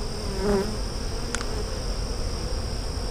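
Honey bees buzz steadily around an open hive during a queen check in hive splits. The dense, continuous drone stays close and even throughout, with no voices.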